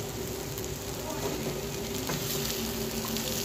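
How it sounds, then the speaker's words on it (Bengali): Greens (shak) sizzle and fry in a pan as they are stirred, a steady close hiss with faint scraping and stirring motions, no speech over it. "তো চলো একটু নাড়াচাড়া করে শাকটা হয়ে যাবে"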